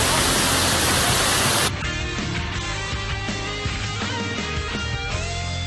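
The Cachoeira do Arruda waterfall roars as a loud, dense hiss for the first second and a half, after which it cuts off and a quieter, busier stretch of sound follows.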